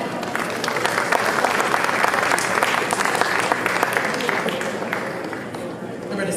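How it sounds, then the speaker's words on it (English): Audience at a Houston Africa Day 2023 award ceremony applauds an honoree on stage, dense sustained clapping from a large crowd, loud and steady, with faint voices mixed in. "Let's give him a round of applause."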